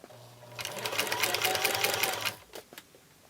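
A sewing machine with a walking foot feeds a quilt through in one close, rapid burst of stitching lasting under two seconds, then stops, leaving a few faint clicks.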